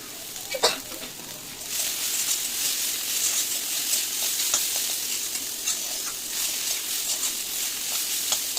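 Steady, loud sizzling of water spinach (kalmi greens) frying in a wok, with scraping stirs and clinks of a utensil throughout; no voices.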